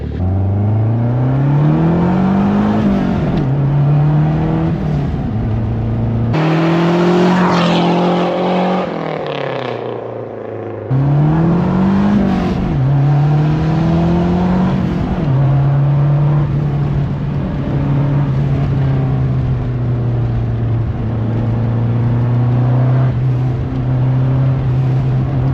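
A 1989 Lancia Delta HF Integrale rally car drives past outside on a tree-lined road, its engine note rising and falling as it accelerates, loud and close, with a brief dip before the revs climb again and hold steady.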